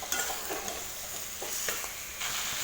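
Chicken fry marinated in yogurt and dried red chilies sizzles steadily in a pan over a low flame, and a spoon stirs it in several short scraping strokes. No one talks.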